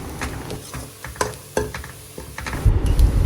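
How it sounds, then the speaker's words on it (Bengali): Chopped onions frying in a pan for pahari Garhwali-style chicken make a soft, continuous sizzle. Scraping stirs and utensil knocks rise above it and grow louder toward the end, with no talking. "5 মিনিট মতন এটাকে ভালো মতো ফ্রাই করে নিতে হবে।"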